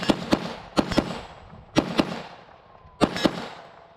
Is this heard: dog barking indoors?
no